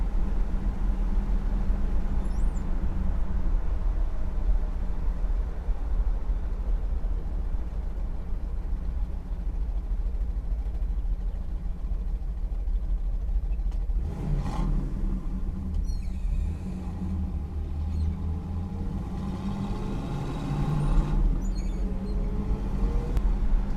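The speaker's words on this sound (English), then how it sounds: "I don't know if you guys can hear how smooth and tight this engine is" A deep, steady idle from a 1970 Pontiac Trans Am Ram Air III engine rumbles through the exhaust for a long stretch, smooth and low, with a few faint clunks and shifts midway; no talking.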